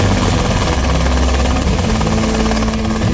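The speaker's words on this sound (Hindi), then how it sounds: "भारत में बना पहला स्वदेशी लड़ाकू हेलीकॉप्टर है लाइट कॉम्बैट।" An Indian-built Light Combat Helicopter, a military attack helicopter, flies close by with a loud, steady rotor and turbine roar that holds at constant strength throughout.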